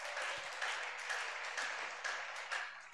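A church congregation applauds steadily during a service, dense crowd clapping filling the room for a few seconds, moderately loud with no speech over it.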